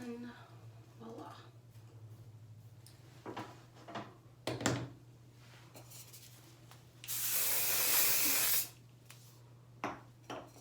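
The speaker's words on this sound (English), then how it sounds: "This is the texture spray I use." A hair texture spray hisses in one steady burst of about two seconds, preceded by quiet handling clicks and bumps with a low hum underneath.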